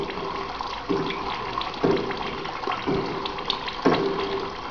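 A laminar water jet pours into the collector of a water-jet powered clock, giving a continuous watery hiss with a soft thump recurring about once a second, close and fairly loud.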